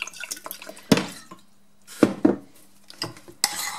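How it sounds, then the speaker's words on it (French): Vinegar poured freely onto fresh carrots in a dish as an oil-free seasoning, heard as a few short splashes and clinks against the dish, separated by quiet gaps. "On va juste mettre du vinaigre"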